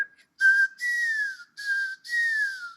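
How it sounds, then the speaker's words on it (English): A golden plover sings in an Icelandic dawn chorus, giving four clear, plaintive whistled notes in a slow sequence, each slightly falling, fairly near against otherwise quiet air, with no voices. "It's probably the dominant sound here is golden plover"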